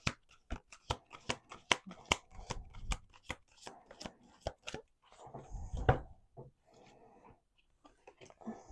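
Tarot cards shuffled by hand, a rapid run of sharp riffling clicks close up, then softer sliding and rustling as the deck settles, with a few last taps.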